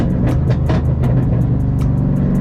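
A straight-piped Shelby GT500 exhaust under moderate throttle, a loud, close, deep rumble with rapid pulsing crackle and burble throughout.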